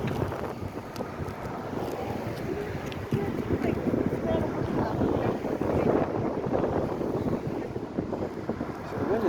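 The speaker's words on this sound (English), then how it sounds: "So the wind is picking up." Strong wind gusting across an open beach, a steady broadband rush with louder buffeting against the microphone throughout.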